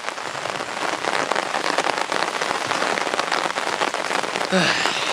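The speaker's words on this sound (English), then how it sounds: "As you may be able to hear, it's still raining." Steady rain patters down continuously at a carp fishing lake, a dense broadband hiss of drops hitting surfaces, fairly loud and close throughout with no voices.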